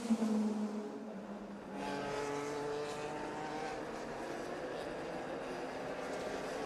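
A race car in a Le Mans endurance series round at the Nürburgring 1000 km, driving on a wet track, with a sustained engine drone and rising tones, loud at first and then steady, under faint commentary.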